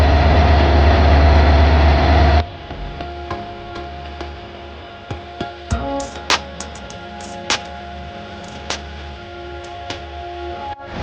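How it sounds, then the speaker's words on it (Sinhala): The powerful diesel engine of the Yal Devi express train rumbles loudly and deeply at close range for about two seconds, then the sound drops to a quieter hum punctuated by scattered clicks and knocks. "පවර්ෆුල් එන්ජින් එකක් මේක."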